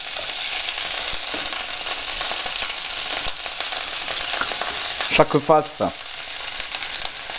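A sous-vide-cooked pork filet mignon sizzles as it sears in a hot pan, a steady hiss throughout, and a short spoken phrase breaks in near the end.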